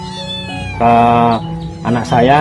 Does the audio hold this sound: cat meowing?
yes